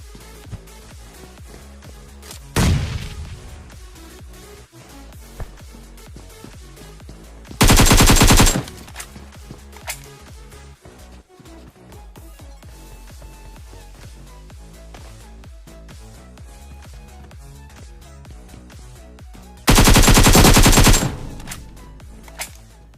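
Gunfire in the PUBG video game: two loud, sustained automatic bursts about a second long, plus a single sharp shot earlier, over quieter in-game ambience.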